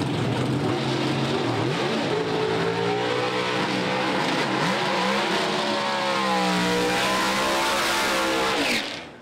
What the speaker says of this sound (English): let's get back to the second round of drag racing here at the Orlando Speedworld